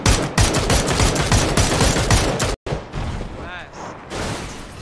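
Rapid automatic gunfire from a shooter video game fires in dense bursts, cuts off abruptly, then resumes more sparsely with a ringing ricochet-like tone, while a player talks over the shooting.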